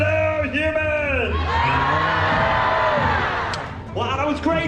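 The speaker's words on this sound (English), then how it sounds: "the proper human response is to throw your hands in the air and scream" A theater audience at the Monsters Inc Laugh Floor show in Magic Kingdom, Walt Disney World, screams and yells together in a loud, sustained crowd roar, with an amplified host voice talking before and after it.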